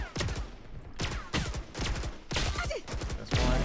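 Rapid Classic pistol shots in a Valorant deathmatch, a dense string of loud, punchy cracks repeating about every half second with overlapping game effects.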